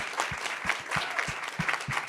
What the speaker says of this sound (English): you can all clap for the panel